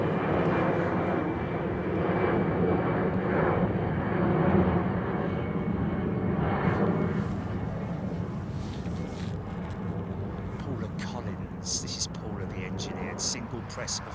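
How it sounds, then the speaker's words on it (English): An ATR turboprop on a test flight at the Airbus factory in Toulouse gives a steady, fairly distant engine roar that fades slightly, with a voice murmuring quietly over it. "Hodgie's saying the ATR is a test flight"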